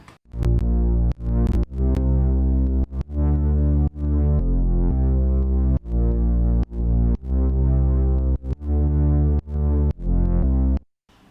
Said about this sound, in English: So this is a sub bass with a lot of distortion.